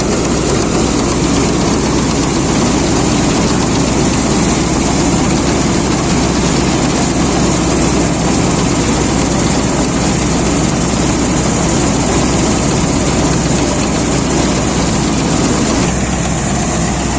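A Sampo 500 combine harvester threshing barley runs as a loud, steady, continuous engine and machinery drone with a heavy low rumble throughout, close by and without talk.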